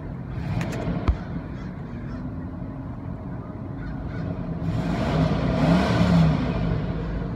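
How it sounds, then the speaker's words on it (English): Engine of a 1996 Buick Roadmaster Estate Wagon revving, with a loud mechanical cooling fan roaring up as the revs rise, preceded by a sharp click, near and without speech. "It has that loud mechanical fan, so that's why it makes all that noise when I rev it."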